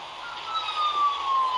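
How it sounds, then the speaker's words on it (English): A police siren heard from inside a caller's car, a wavering wail rising and falling, somewhat distant and muffled, over road rumble. "I hear the sirens in the back."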